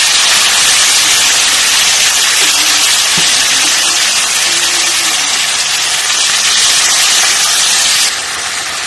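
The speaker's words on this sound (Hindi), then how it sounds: "अभी इसमें हम लोग साग डालेंगे जो बॉईल किया हुआ है।" Boiled arbi kuchu saag greens hit a hot pan in a village kitchen in Assam, giving a loud, steady, unbroken sizzling hiss that carries on for several seconds and eases slightly right at the end.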